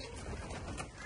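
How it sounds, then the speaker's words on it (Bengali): Pigeons coo softly at a small farm in Florida that also keeps chickens and goats, a faint, low murmur over steady background noise lasting about a second. "এখানে হচ্ছে কবুতর"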